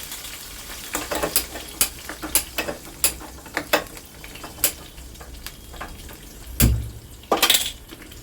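A ground tomato and onion paste sizzles in a pan as it goes onto the heat, with a low steady fry under repeated stirring scrapes and clinks from the utensil.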